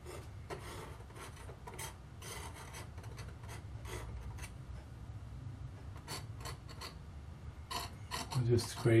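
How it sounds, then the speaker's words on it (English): A palette knife scrapes oil paint across a canvas in short, repeated rasping strokes, fairly quiet and close, with brief pauses between scrapes. "Use the palette knife just a little bit here."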